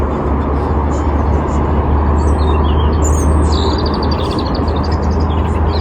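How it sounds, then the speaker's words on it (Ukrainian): Faint bird chirps rise over a steady low outdoor rumble in a botanical garden in May, with no one speaking. "Пташки співають."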